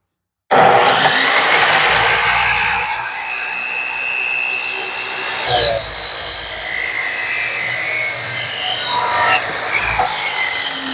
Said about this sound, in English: Let's cut some metal.